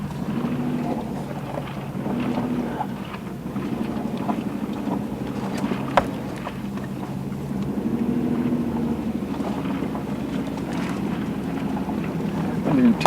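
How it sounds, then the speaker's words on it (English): Kawasaki Mule utility vehicle driving a rocky, steep mountain road, a constant engine drone with wind buffeting the microphone and occasional jolts and rattles throughout. "Didn't do too bad a job riding around these mountains in a mule."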